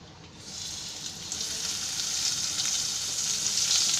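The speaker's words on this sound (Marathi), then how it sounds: "आता मी ही मच्छी आहे ना याला तेलामध्ये सोडते." Rava-coated black pomfret (halwa) sliding into hot oil and frying, a steady bright sizzle that swells and intensifies over a few seconds, close and continuous with no talking.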